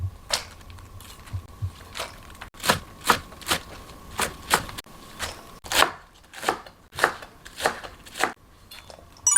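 A knife chops cucumbers into small pieces for oi sobagi, crisp steady strikes on a cutting board repeating at an even rhythm, close and clear against a quiet background.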